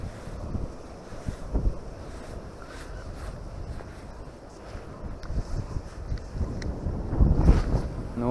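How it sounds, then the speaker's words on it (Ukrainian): Wind blowing beside a river during spinning fishing for pike, a steady rushing buffet of gusts on the microphone with a stronger surge near the end. "Вітер сьогодні заважає ловити."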